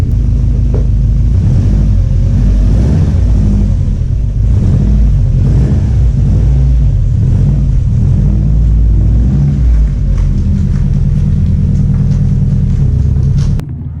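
A car engine running smoothly on a test drive after a camshaft sensor install, a loud constant low rumble with steady hum and no sputter, close throughout.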